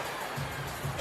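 Arena crowd noise at a women's basketball game, Korea against China at the FIBA Women's Asia Cup 2025, a steady broadband roar of spectators that swells slightly throughout, with no distinct claps or single voices.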